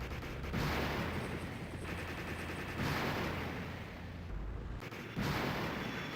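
Missile launches and explosions in a survival video game, a dense, loud barrage of booming blasts with rumbling low end that swells and drops in waves across the whole stretch, with no talk.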